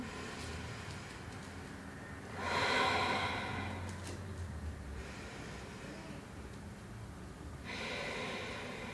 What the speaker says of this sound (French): Et on prend 3 ou même 4 bonnes respirations.